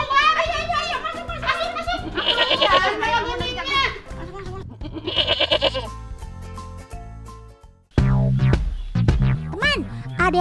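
Goats bleat repeatedly in quavering, high cries that come in bursts, with children's voices and chatter mixed among them and a farm setting around.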